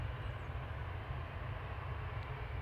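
A Loganair Embraer ERJ 145 regional jet at Manchester Airport gives a steady, loud engine roar with a deep low rumble and broadband hiss, with no voices.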